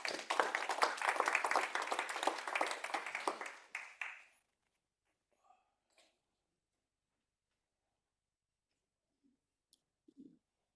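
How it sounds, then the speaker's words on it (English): Audience applause at an international education and health conference session, a dense burst of clapping that fills the first four seconds, tapers off, and is followed by near silence with a few faint clicks. "A big round of applause for Aline."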